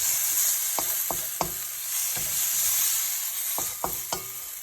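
Whole spices for a Moroccan lamb tagine curry sizzle steadily in a hot pan while a wooden spoon scrapes and stirs, giving several sharp knocks against the pan over the constant hiss.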